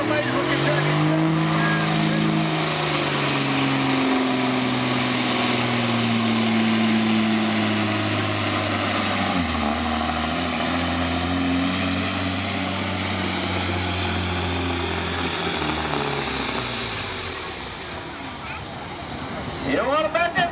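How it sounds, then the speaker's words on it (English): A Freightliner truck at a truck pulling event roars loudly and steadily for about seventeen seconds, its engine note shifting in pitch as it pulls, then easing off near the end. "Beautiful Freightliner out of Maysville, Kentucky, Mr. Mark Ward."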